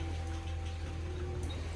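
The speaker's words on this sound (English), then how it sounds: "It's just misty rains at the moment." Light misty rain falls on a farm during a storm, heard as a steady even hiss of drizzle with a constant low rumble beneath it and no speech.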